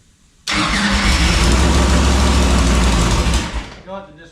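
A Pop Power engine mounted in an Elite chassis, with a leaking exhaust, fires up abruptly and runs loud and steady for about three seconds before cutting out and sputtering to a stop.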